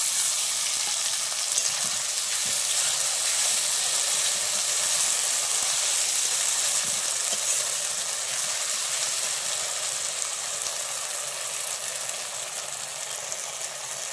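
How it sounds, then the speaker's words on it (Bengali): A ground paste of cumin, ginger, poppy seed, chilli and garlic fries in a pan for jackfruit fritters, giving a steady, even sizzling hiss that runs unbroken throughout. "এবার মশলাটা ভালো করে কষিয়ে নেব।"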